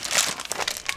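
A bag of bird seed crinkles and rustles in short, close bursts as it is handled, loud and crisp with no talking.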